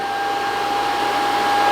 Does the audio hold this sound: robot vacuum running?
yes